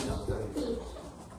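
Sialkoti pigeons cooing softly nearby, a few low murmuring coos with faint background noise.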